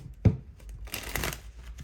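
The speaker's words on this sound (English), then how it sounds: "Let me shuffle again, because these cards are being weird already." A deck of tarot cards is shuffled by hand: a soft tap, then a brief rapid riffling flutter, close and fairly quiet with no talking.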